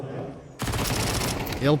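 Rapid bursts of Counter-Strike gunfire crackle after a quiet opening, dense and loud, with a commentator's voice speaking underneath during a tournament match on the Ancient map.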